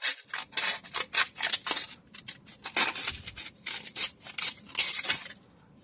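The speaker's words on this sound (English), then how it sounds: "I usually just cut a small piece of it out" Scissors snip through a small piece of sandpaper in a quick run of close, crisp, rasping cuts, repeated in uneven bursts with brief pauses between them.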